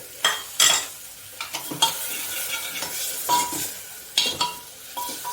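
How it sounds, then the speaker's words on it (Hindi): Tomato and ginger go into a hot pan of cabbage and potato, giving bursts of sizzling frying and scraping stirs of a utensil against the pan, close and irregular with quiet gaps between, no talking. "इसी समय मैं इसमें, ये देखिए, टमाटर और ये अदरक डाल,"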